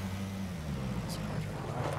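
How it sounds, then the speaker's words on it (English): A car driving past in the battle royale game PlayerUnknown's Battlegrounds, a low steady engine rumble holding throughout at moderate distance, with faint higher noise drifting over it. "Car just came by."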